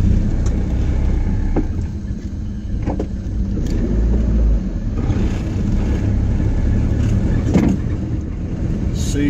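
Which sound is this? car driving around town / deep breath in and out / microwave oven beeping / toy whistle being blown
car driving around town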